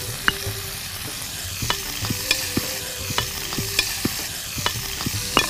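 Dried fish pieces sizzling in hot oil with fried onions and green chillies, a steady frying hiss broken by repeated sharp scraping and tapping of a spoon stirring in the pan, close and clear with no talk.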